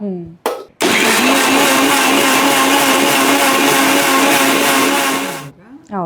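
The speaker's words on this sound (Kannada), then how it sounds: "ಇದಕ್ಕೆ ನೀರು ಹಾಕದೇನೆ ಫಸ್ಟ್ ಗ್ರೈಂಡ್ ಮಾಡಬೇಕು, ಅಂದ್ರೆ ಬ್ಲೆಂಡ್ ಮಾಡಬೇಕು" A kitchen blender grinds a flaxseed mixture with oil and no water, running as one loud, steady whir for about five seconds, with short bursts of noise just before and after.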